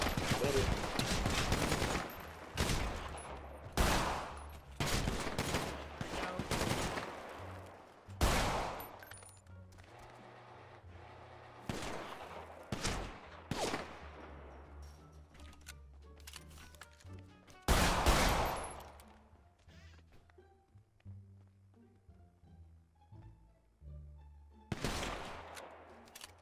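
Bursts of gunfire in the video game GTA 5, rapid automatic volleys and single shots coming in loud clusters separated by quieter gaps over nearly half a minute.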